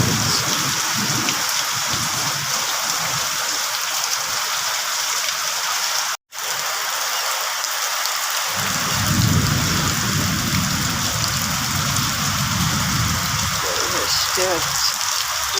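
Heavy rain pours steadily onto surfaces, a dense close hiss that runs almost the whole time, broken by a brief dropout near the middle, with a low rumble and faint voices mixed in.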